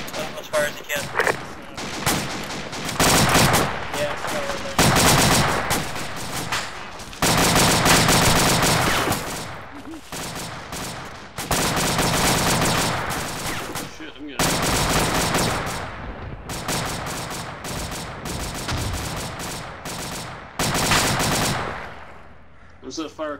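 Sustained bursts of automatic gunfire from the video game Arma 2 during a beach landing, loud and close, with dense rattling volleys and short gaps running throughout.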